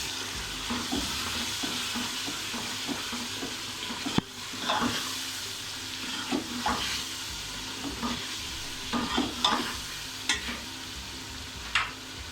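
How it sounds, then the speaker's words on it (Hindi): Tamarind syrup, seeds removed, is poured into sizzling beef keema in a pot while cooking keema biryani, giving a steady close frying sizzle broken by repeated scraping stirs and a sharp knock of a utensil against the pot. "तो ये शीरा हम इसके अंदर डाल रहे हैं।"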